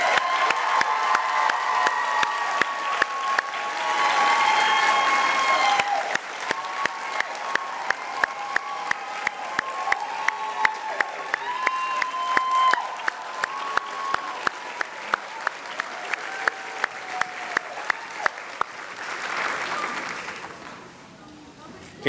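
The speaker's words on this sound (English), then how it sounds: "let's really get behind these teachers and give them the loudest round of applause so far" Sustained audience applause with scattered cheering for teachers at a Teacher of the Year ceremony, a dense, steady wash of clapping that carries through the whole stretch, louder in bursts and easing toward the end.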